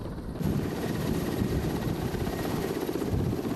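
A military helicopter during a paratrooper exercise, its rotor and engine producing a steady, loud, close droning roar that fills the whole stretch without a break, with no voices over it.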